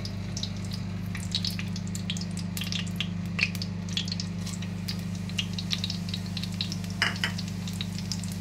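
Ground cloves, cardamom and fennel frying in ghee in a clay pot, giving a steady, close sizzle and crackle throughout, with no talking.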